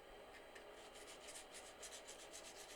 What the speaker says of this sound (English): This time I'm just using a piece of sandpaper. So we basically just want to clean it off so we can get it back down to bare metal.